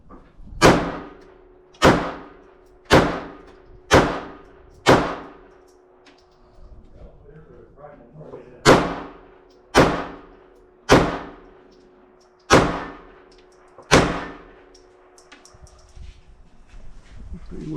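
Ruger Security 380 and Ruger LCP Max .380 pistols firing Blazer ammunition at a target, ten sharp loud shots in two strings of five, each with a quick decaying report, with a short pause between strings.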